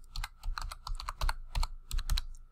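Typing on a computer keyboard, a quick run of about a dozen crisp key clicks in uneven rhythm, close and clear with no talking.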